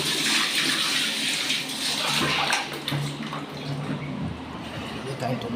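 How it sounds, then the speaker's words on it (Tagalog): Water pours steadily into a car radiator with a broad rushing splash, close by, as a voice talks briefly over it. "Ilagay tayong tubig sa radiator."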